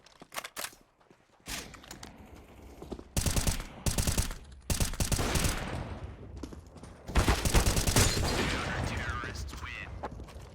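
Rapid rifle spray bursts in Counter-Strike crackle in several loud clusters of fast gunfire, with brief quieter gaps of mechanical clicks and movement between them.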